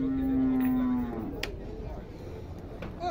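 A single long, loud cow moo with a steady low tone holds for about a second, then fades into outdoor background noise as cattle are unloaded.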